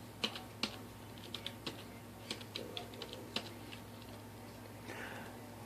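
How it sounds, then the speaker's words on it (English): Keys clack on a computer keyboard as a command is typed, a sparse run of crisp, close taps with uneven gaps and a final stroke for enter over a low steady hum. "/ SBIN, / ifconfig, and hit enter."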